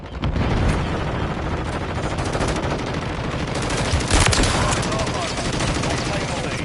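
Dense, rapid gunfire rattles in a Modern Warfare 3 match, with near-continuous bursts and a heavier blast partway through, loud throughout.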